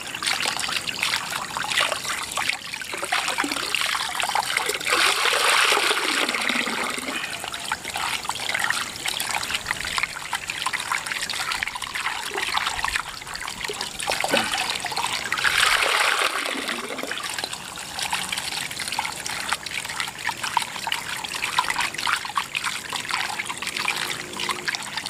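Salted dried squid rinsed under running water in a kitchen, a steady trickling and splashing stream that swells twice as the pieces are moved under it, continuous and close.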